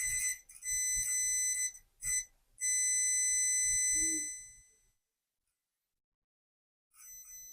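A continuity tester touched across a dryer heating element gives loud, sharp electronic beeps: several short bursts, then one long sustained tone that cuts off into silence before a final brief beep.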